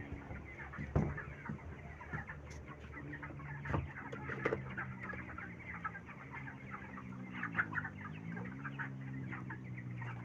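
Chickens kept on a farm cluck in short irregular bursts over a steady background hum, with occasional sharper calls standing out nearby.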